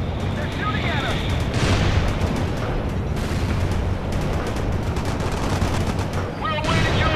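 Gunfire and machine gun bursts in the World in Conflict video game: dense, continuous rattling fire and explosions mixed with battlefield noise, and voices heard under the shooting.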